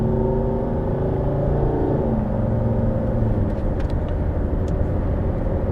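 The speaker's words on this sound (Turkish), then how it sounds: "Motor rölantide dizel ama giderken hiç dizel gibi değil. 3000'de vites değiştiriyorum." A Volvo S80 2.4 D5 diesel car accelerates hard, its engine note climbing steadily before a gear change at around 3000 rpm drops the pitch, heard from inside the car with a constant loud rumble.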